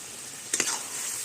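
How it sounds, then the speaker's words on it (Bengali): Fried shrimp is added to red amaranth greens in a hot pan, giving a soft, steady sizzle broken by a couple of quick stirring scrapes. "এবার দিয়ে দিচ্ছি চিংড়ি মাছ ভাজাটা"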